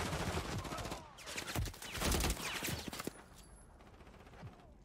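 Striker SMG fire in Modern Warfare 3 multiplayer, several rapid bursts of sharp automatic shots at close range, loud and clustered in the first three seconds before tailing off, with a faint voice around them.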